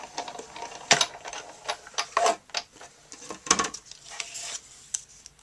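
Cardstock is cranked through a die cutting machine as a bursty string of clicking, ratcheting mechanical noises, close by and fairly quiet, with no talking.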